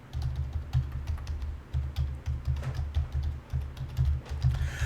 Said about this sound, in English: let me type that out here.